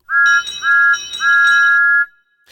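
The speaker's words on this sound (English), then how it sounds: "Toby and Thomas blew their whistles to say thank you." Three bright, high whistle blasts in quick succession, the last one held longer, loud and close with no one talking.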